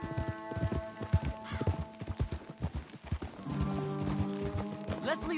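Horse hooves clip-clop in a steady rhythm close by in Red Dead Redemption 2, with game music and a voice speaking over them.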